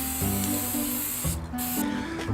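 Epoxy appliance finish sprayed onto a Crown Victoria, a close, steady hiss broken by two short pauses, with music playing underneath.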